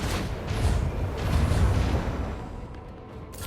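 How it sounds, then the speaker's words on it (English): A macro cannon volley fires in the Warhammer 40000: Rogue Trader video game as a deep, rumbling series of booms that swell and roll together before fading, with no talk. "Macro cannon, volley."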